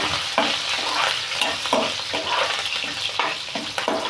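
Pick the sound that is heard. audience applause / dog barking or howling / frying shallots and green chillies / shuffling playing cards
frying shallots and green chillies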